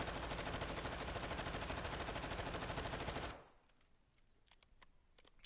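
Sustained full-auto burst from a Vaznev rifle with its stock recoil in a first-person shooter game, a loud steady rattle for about three seconds that cuts off abruptly, followed by a few faint clicks.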